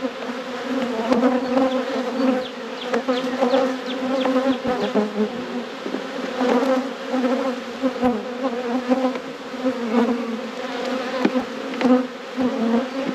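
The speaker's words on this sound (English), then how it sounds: "There's tons of bees here." Dense, steady buzzing of many honey bees swarming close around a deep hive opened for inspection after winter, a continuous droning hum with individual bees flitting past.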